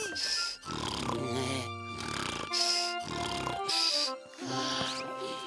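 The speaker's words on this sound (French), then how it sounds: "Il ronfle vraiment fort, celui-là." Garfield the cartoon cat snores loudly in repeated long, rasping breaths with snorting inhales, about four cycles, close and prominent.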